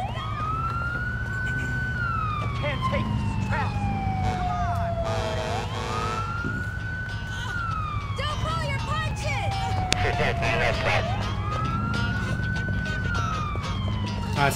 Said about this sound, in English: Gotta figure out how to turn off the damn ambulance